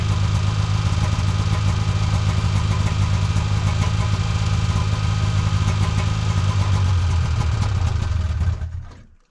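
A 1977 Kawasaki Invader snowmobile idles after a cold start, its engine running loud, steady and rough close by before cutting off abruptly at the end.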